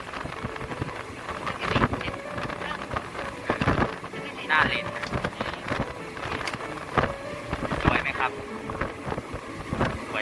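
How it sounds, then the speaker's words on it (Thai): Strong wind buffets and roars against the microphone in uneven gusts aboard a moving Thai express train, Bangkok to Ubon Ratchathani, with rumbling movement beneath and faint talk mixed in. "แล้วตอนนี้ลมก็ค่อนข้างที่จะแรงนะครับ"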